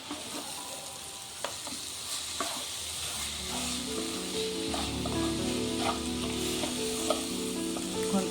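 Grated carrots for carrot halwa fry in a pan with a continuous sizzle, joined by occasional scraping taps of a stirring utensil; the frying sounds close and steady, with no talking.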